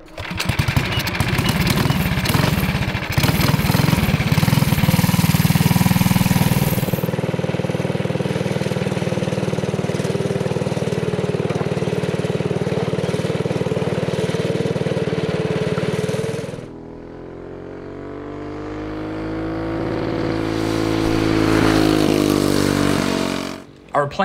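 A Predator Ghost 212 racing engine on a go-kart with a 1990s Phantom racing chassis revving loud and steady on a track, the pitch dropping, then swelling again as the kart passes.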